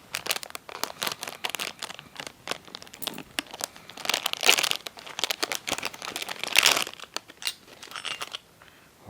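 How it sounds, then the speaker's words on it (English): A plastic packet holding a Daihatsu car grille badge is cut and pulled open, with close, irregular crinkling and rustling in quick bursts and a few louder crunches. "I'm going to cut it out of the packet"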